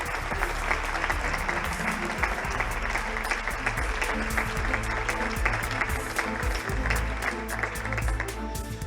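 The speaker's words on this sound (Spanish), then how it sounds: "un muy fuerte aplauso para todos ellos" Sustained, loud applause from a studio audience for the production crew of a Radio Cartagena history broadcast, dense clapping filling the whole stretch with a faint murmur of crowd underneath.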